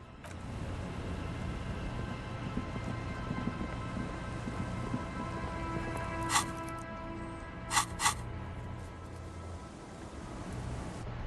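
Steady rain hissing through the Disco Elysium video game, a continuous wash over a low rumble, broken by a few sharp bright cracks near the end.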